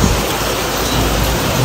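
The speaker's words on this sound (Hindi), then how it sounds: "काफ़ी तेज़ बारिश हो रही है," Heavy rain pours down in a sudden downpour, a dense, steady hiss of drops drumming on surfaces with a low rumbling undertone, loud and continuous throughout with no voices.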